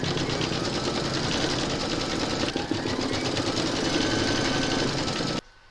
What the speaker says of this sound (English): Load your white thread into your machine and then stitch round number 10.